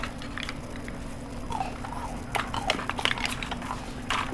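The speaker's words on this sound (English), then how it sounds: "I'm chewing on the other side of the tongue." Crunchy biting and chewing on a hot nut, with irregular crackles and bursts close to the mouth over a steady background hum.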